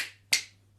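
Two crisp finger snaps, close and quick, a fraction of a second apart.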